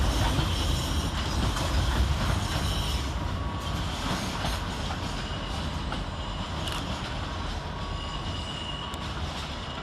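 C2C Class 357 electric trains at London Fenchurch Street station, a continuous loud rumble of moving carriages with metallic wheel squeal and faint clatter over the rails.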